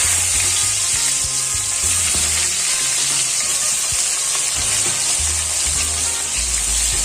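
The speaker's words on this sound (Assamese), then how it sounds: "এতিয়া এইখিনি তেলতে মই পিঁয়াজখিনি ভাজি ল'ম" Onions frying in hot oil, meant for a duck curry: a loud, steady sizzle up close with stirring and scraping sounds throughout, with no voices.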